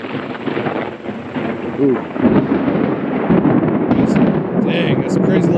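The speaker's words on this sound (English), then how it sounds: "Dang, that's some crazy lightning out here" Loud, rolling thunder rumbles continuously through a lightning storm during an off-road winch recovery, with rain hissing underneath and a brief exclamation from a person partway through.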